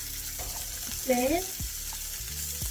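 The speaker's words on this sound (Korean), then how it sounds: "이제 소시지를 한번 볶아 보겠습니다" Sausages sizzle in a little olive oil in a frying pan, a steady close hiss running throughout, with a brief spoken word over it midway.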